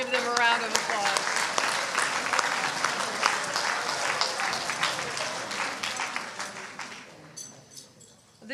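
Audience applause at a high-school awards ceremony, a dense, steady clapping from a full room that runs for several seconds and then thins out toward the end.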